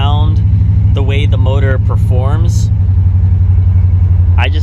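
A 1968 Ford Mustang Fastback engine idles with a loud, steady low throb close by, while someone talks over it.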